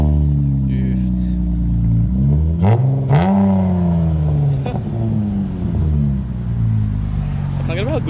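Mitsubishi Lancer engine idling after a cold start, a steady loud near drone with a few brief rising revs, speech heard over it.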